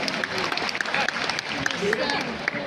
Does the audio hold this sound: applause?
yes